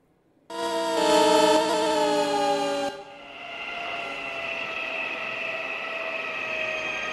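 A Mumbai local EMU train in a mobile train game passes from the opposite direction, a loud steady tonal horn blast giving way to a sustained rumbling, whining rush of the passing train.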